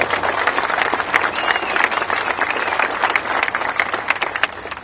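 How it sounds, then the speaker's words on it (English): An audience at a Warrior Games event in Colorado applauds in a sustained, fairly loud round of clapping, dense and even from start to finish, with a few voices mixed in. "Let's give them a round of applause."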